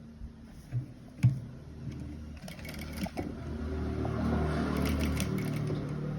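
Sewing machine running while stitching gathers along the lower edge of a child's frock, a steady mechanical whirr that builds and holds from the middle onward after a few isolated clicks and knocks, with no talk.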